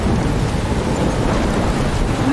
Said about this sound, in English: I'm trapped in a storm? How did I get here? We're in a storm.